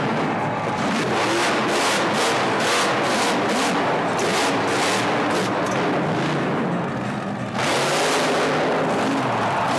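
A loud monster truck engine roars and revs during a stunt show, with rapid repeated bursts and crackles dominating throughout and a brief dip before the roar swells again.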